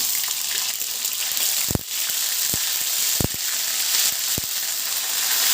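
Cumin, mustard seeds and ginger-garlic paste fry in oil on a griddle, giving a steady hiss with several sharp pops and crackles spaced through it, and no talking.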